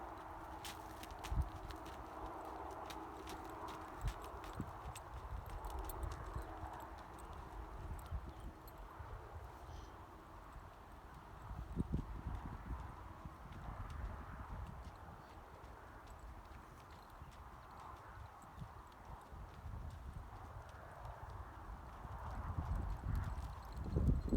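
Hooves of a barrel racing horse clip-clop steadily on hard ground during training, close and rhythmic, with occasional snorts and louder thuds over a low background rumble.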